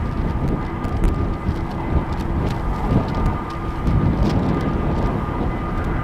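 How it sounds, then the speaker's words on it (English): EasyJet and KLM airliners approaching at Amsterdam Schiphol, a heavy low rumble of aircraft engines that stays continuous and fairly loud throughout, with no voices. "we can see two airplanes coming this way, one EasyJet, one KLM"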